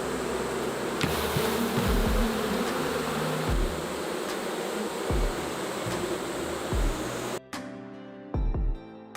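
Honey bees swarm around hives on a Ugandan bee farm, making a dense, continuous buzz up close. Occasional low thumps break through the buzzing, and the sound changes abruptly near the end.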